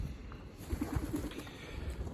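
Soft, low pigeon coos repeat a few times, faint and close, over a quiet hiss of background noise.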